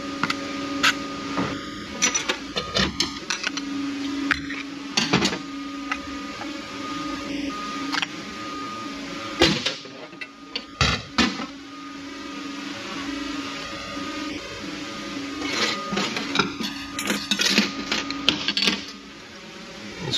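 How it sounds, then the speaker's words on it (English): A pneumatic air gun rattles in repeated short bursts while a part is removed from a Ford 4R75E transmission during a teardown, with small metallic clicks and handling noises between the bursts. "Grab my air gun."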